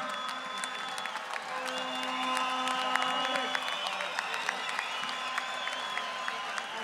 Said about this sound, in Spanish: Fuerte aplauso para el compañero Enrique Méndez